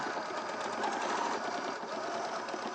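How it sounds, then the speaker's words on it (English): A sewing machine runs a long seam nonstop, its fast even stitching hum close and steady throughout with no talk over it. "So another long line of stitching."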